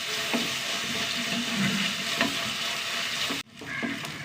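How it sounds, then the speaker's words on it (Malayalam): Onions and curry leaves frying in a pan, with a steady broadband sizzle and occasional stirring scrapes, close and fairly loud, then a sudden drop near the end followed by quieter sizzling. "കറിവേപ്പില ഉള്ളി നന്നായി മൂത്ത് വരണം"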